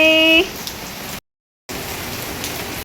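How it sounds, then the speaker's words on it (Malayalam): Heavy rain falls in a steady, dense hiss, opening with a short electronic tone and breaking off briefly in a moment of silence before the downpour resumes. "നല്ല മഴയായിരുന്നു ഗൈസ്"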